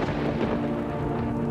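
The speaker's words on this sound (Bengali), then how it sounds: "এক আকাশ মেঘ, মাঝে মাঝে বিদ্যুৎ চমকাচ্ছে।" A low, continuous rumble of thunder rolls through a short stretch of stormy night ambience, dense and steady with a hint of rain, used as a sound effect in a spoken horror story.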